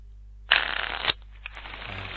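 A virtual card deck shuffles in game porting software for Battlegrounds: one quick, papery riffle burst lasting about half a second, followed by a quieter rustle, with no talking.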